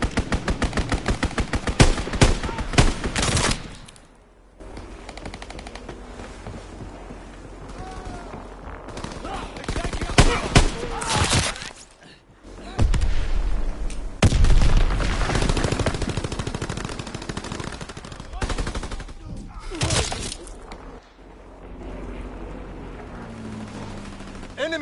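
Rapid bursts of machine-gun fire and gunshots ring out in a Call of Duty WW2 multiplayer match, loud and dense at first, then scattered volleys and single shots, with game voices heard in between.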